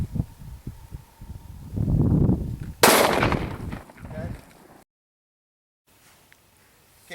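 A Taurus Judge revolver fires buckshot at a milk jug some distance away: one sharp loud blast around the middle, preceded by rustling and handling noise, then near silence.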